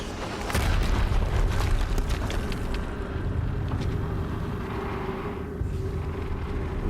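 An explosion in Horizon Zero Dawn hits with a loud boom, then settles into a heavy rumbling roar that slowly fades while staying strong to the end.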